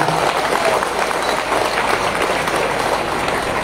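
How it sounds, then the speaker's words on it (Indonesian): A church congregation at a Catholic blessing mass for a parish rectory and hall gives a loud, steady round of applause, dense clapping that holds evenly throughout with no speech over it. "Tepuk tangan meriah."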